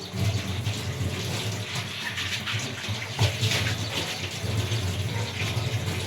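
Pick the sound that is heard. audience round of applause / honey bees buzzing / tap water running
tap water running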